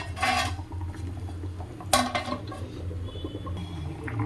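A lid set down with a metallic clatter on a pan of fish frying for Telugu-style fish pulusu, two sharp clinks standing out over a steady low hiss and hum, with no talking.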